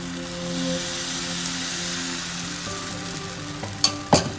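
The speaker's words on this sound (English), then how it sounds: "Once the pan is heated, we'll put a spoonful of batter" Uttapam batter sizzles softly and steadily on a heated, oiled non-stick pan, a continuous hiss with a couple of brief clinks near the end and no talk.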